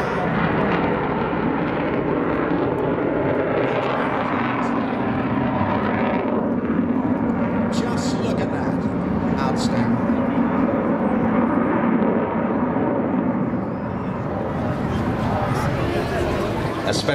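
Avro Vulcan XH558 jet bomber flies a display at a Scottish airshow in 2015, a loud, continuous broadband jet roar filling the whole stretch, with crowd chatter faintly beneath.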